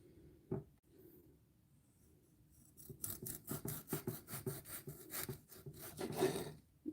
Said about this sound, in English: This bread knife cuts very beautifully.